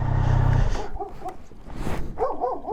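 A dog gives a few short barks and yips close by, after a low rumble at the start, the calls coming in quick bursts.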